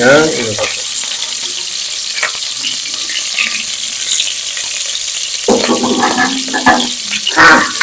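Loud, dense sizzling and crackling of curry leaves frying in hot oil for goat leg soup, with bursts of spattering and a clatter near the end.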